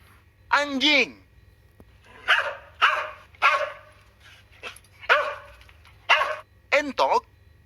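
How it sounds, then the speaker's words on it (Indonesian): A dog barks in a series of about eight sharp, close, loud woofs, some in quick pairs, separated by short silences against a faint low hum. "anjing"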